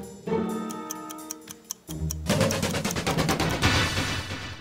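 Rapid, steady ticking of a quiz show countdown timer with electronic tones, shifting partway through into denser, busier ticking that continues to the end.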